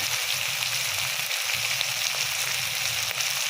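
Chillies and cumin seeds sizzle loudly in hot oil, a dense continuous crackling hiss heard close up and on its own.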